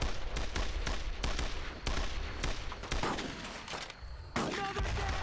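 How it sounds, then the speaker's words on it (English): Incoming gunfire in Brothers in Arms: Road to Hill 30, a dense fusillade of close sharp shots in rapid bursts, easing briefly near the end before resuming. "Incoming fire"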